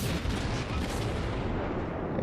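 Naval guns of an Omaha-class cruiser in World of Warships firing a salvo, a dense, loud, rumbling roar of blasts that fills the whole moment and rolls on without a break.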